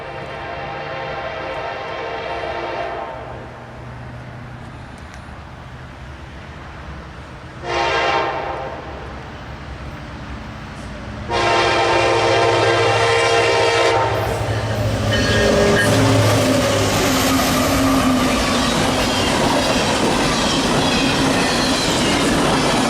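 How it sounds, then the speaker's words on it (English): A freight trash train led by an SD70ACE locomotive passes close by, sounding several long blasts of its horn before the loud roar and clatter of wagons rolling past takes over. "Then we saw a trash train with an SD70 ACE leading."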